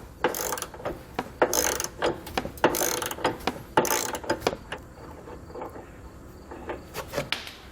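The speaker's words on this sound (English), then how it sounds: "We're going to remove these large nuts from each side using a 30mm socket." Ratchet wrench with a 30mm socket loosening large nuts holding the tow hook on a 2020 Jeep, giving repeated rapid clicking bursts in short strokes, close and fairly loud, with brief pauses between pulls.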